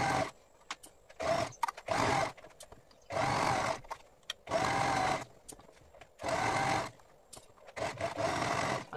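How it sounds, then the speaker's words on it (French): A sewing machine stitches a straight seam 1 cm from the edge around a piece of fabric, in several loud, close bursts of rapid whirring with brief pauses between them. "vous passez une couture tout autour de votre tissu"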